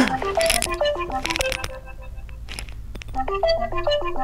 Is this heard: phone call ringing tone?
yes